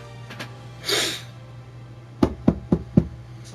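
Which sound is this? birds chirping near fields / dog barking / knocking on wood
knocking on wood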